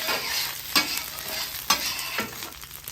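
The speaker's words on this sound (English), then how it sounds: "noodles, toasting them up a little bit, pick up all that flavor from the beef" Noodles and beef sizzling and being stirred on a hot griddle, a steady fry hiss broken by a few sharp scraping strokes of a spatula, close and alone without talk.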